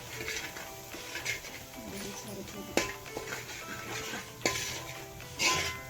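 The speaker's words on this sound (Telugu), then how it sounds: "ఇలా బాగా మిక్స్ చేయాలి" A spoon stirs chili powder and salt into a pan of Andhra fish curry, scraping softly with a few sharp clinks against the pan, while someone talks nearby.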